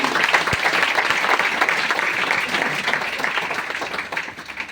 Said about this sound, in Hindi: एक जोड़ा ताली होना चाहिए